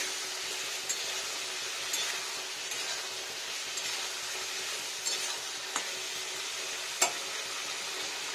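Potatoes, peas and other vegetables for a vegetarian aloo matar paneer curry are sautéed and stirred in a pan, giving a steady soft sizzle with a few light clinks of the spoon. No one speaks.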